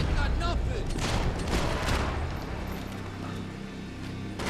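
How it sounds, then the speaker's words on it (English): Rapid bursts of gunfire in the Max Payne 3 video game during a graveyard standoff, dense and continuous with overlapping shots and no clear gaps between them. "I got blind fire at him"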